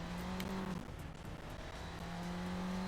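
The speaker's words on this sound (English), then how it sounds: "I mean, it is a Lotus Esprit." Lotus Esprit sports car engine in the Xbox racing game Midtown Madness 3, a steady droning hum with a constant low tone, running continuously and fairly loud with no talk.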